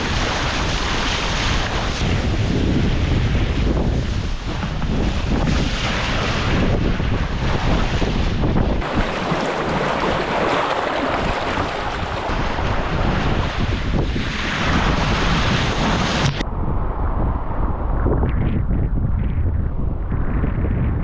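A sailboat runs fast on a crosswind reach during an Atlantic crossing from Saint Martin to the Azores. Strong wind buffets the microphone over a constant rush of waves and water along the hull, which fades to a quieter wash near the end.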